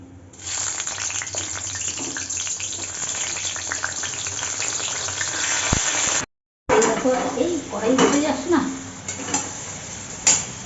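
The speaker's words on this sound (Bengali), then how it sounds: "বেগুন ভাজা বসিয়ে দিই" Steady sizzle of eggplant frying in a pan, with clinks of cookware and a brief dropout midway; a voice talks over the later part.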